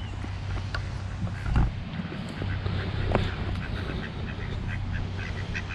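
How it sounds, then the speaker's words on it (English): Ducks calling along a canal towpath, a few scattered honking quacks over steady low outdoor rumble and background noise, fairly faint. "Little duckies."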